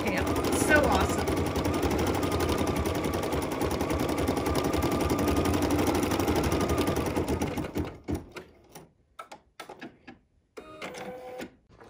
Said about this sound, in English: one thing about the 880 that's awesome is it's going to stitch for just a little bit